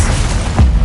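Bombarda explosion spell in Hogwarts Legacy: a short, loud boom with a deep thump bursting out near the end of a brief rumbling moment.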